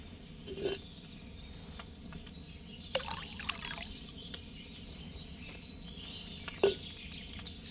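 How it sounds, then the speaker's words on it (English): Water poured from a pitcher into a cauldron in a video game: a few short, soft trickles and splashes, faint and close, with quiet gaps and a low background hum. "First, you have to pour the right base into the cauldron."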